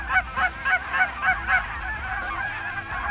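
A goose honks about six times in a quick rhythmic series, fairly close, followed by quieter background noise.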